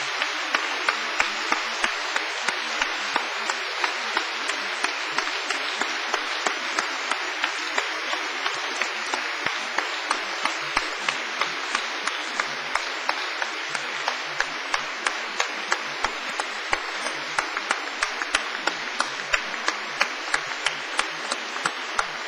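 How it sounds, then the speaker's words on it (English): Sustained, steady applause from graduates in a Cardiff University graduation hall for their families and friends, many hands clapping evenly and continuously for over twenty seconds, with distinct sharp claps standing out from the dense wash. "warm round of applause."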